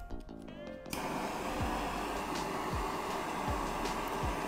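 Propane torch heating a 1/2 inch copper pipe joint for soldering: after a brief lead-in, a steady roaring hiss starts and holds loud and close, with no talk over it.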